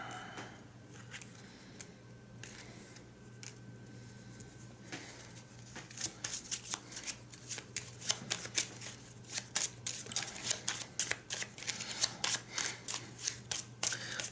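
Game cards for the Aventuria card game being shuffled by hand on a tabletop, quiet at first, then a rapid run of crisp riffling snaps growing busier toward the end.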